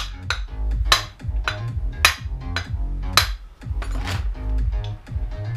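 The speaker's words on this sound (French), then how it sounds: "je t'avais dit qu'il allait prendre le maillet" Mallet striking repeatedly, sharp loud knocks at an uneven rhythm roughly once a second, close by, with a low rumbling underneath between blows.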